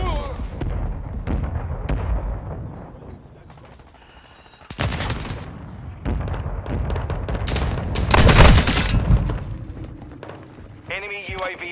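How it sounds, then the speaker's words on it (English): Mortar rounds strike in Call of Duty: Modern Warfare II, loud booming explosions with heavy rumble and crackling debris. They come in several close bursts mixed with gunfire, a quiet lull sits in the middle, and in-game voice callouts are heard. "Hostile mortar strike near your position."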